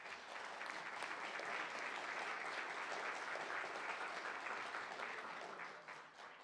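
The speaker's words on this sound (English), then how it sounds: "Please join me in a warm round of applause for all of them" Warm, sustained applause from a City Club forum audience, a dense, even roar of clapping from a large crowd, somewhat distant and tapering slightly at the end.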